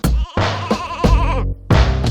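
A goat bleats repeatedly as a sound effect in an Estonian rap track, its wavering cries loud and layered over dense music with short gaps.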